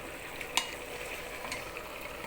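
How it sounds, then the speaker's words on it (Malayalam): Kerala-style chicken roast fries in a pan with a steady sizzle, while a utensil stirs it with a few soft scrapes and taps, close and without talk. "നമുക്കൊന്ന് ഇളക്കി കൊടുക്കാം."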